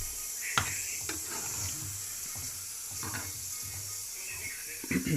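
Water poured into tomato puree in a pot on a gas stove, a soft trickle and splash with a few light clinks and bubbling sounds, close and fairly quiet.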